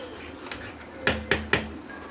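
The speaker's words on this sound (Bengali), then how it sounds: "টমেটোটা ভালো করে নাড়তে হবে যতক্ষণ না তেলটা" A spatula scrapes and knocks against a kadai while tomatoes are stirred for a rohu fish curry, three quick metallic clinks close together after a softer tap, otherwise quiet.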